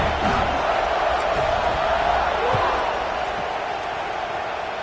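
Stadium crowd in the NCAA 26 college football video game, a steady dense roar of fans building toward the kickoff, loud and continuous throughout with no clear talk.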